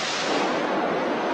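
Pyrotechnic special-effects charge being test-fired on a stage set, a sustained loud roaring blast of noise that fills the whole moment without pause.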